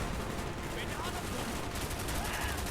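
An RPK light machine gun fires in Call of Duty Black Ops, a dense, continuous automatic burst that fills the whole stretch with loud, rapid shots over steady game noise.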